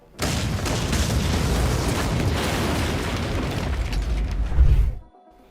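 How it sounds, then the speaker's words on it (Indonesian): A big explosion in a Rurouni Kenshin samurai film, a loud, sustained roaring blast with a rumbling low end that swells near the end and then cuts off sharply into quiet. "Lalu Takaju membawa Kenshin ke suatu tempat dan meledakkan dirinya sendiri."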